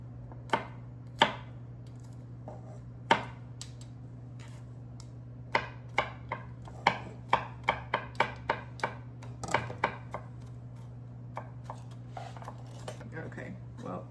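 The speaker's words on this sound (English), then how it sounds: "I'm going to finish cutting up the garlic" A knife chops garlic on a cutting board for a garlic-and-herb compound butter, a series of sharp, separate taps that come irregularly and then quicken into a brisk cluster, with a steady low hum underneath.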